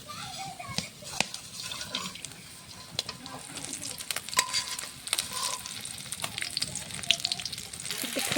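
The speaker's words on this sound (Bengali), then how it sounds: "একটু ফোড়ন দিয়ে দিলাম।" Whole spices tempered in hot oil in a home kitchen while cooking jackfruit seeds with fried fish, a soft crackling sizzle with stirring clinks and scattered sharp taps, fairly quiet throughout.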